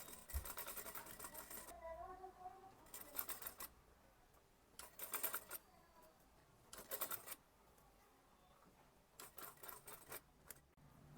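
A sewing machine stitches an Anarkali kurti in several short, rattling bursts separated by quiet pauses, fairly close and alone.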